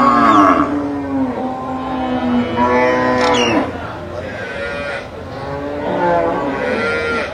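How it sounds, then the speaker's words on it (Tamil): Cattle low and moo repeatedly at a livestock market in Melapalayam, long drawn-out calls from several animals overlapping close by amid busy crowd noise. "நல்ல மாடு பிடிச்சிருக்கு."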